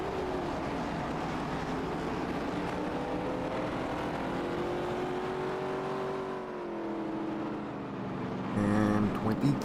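Race car engines in a racing video game drone and climb in pitch as the cars pull off pit road together, a loud, sustained engine roar that swells near the end.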